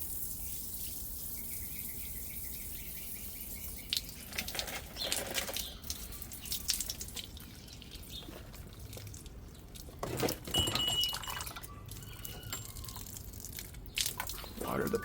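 Water drains from a water heater through a hose, a steady hiss and trickle with drips and splashes, interrupted by clunks and handling noises nearby.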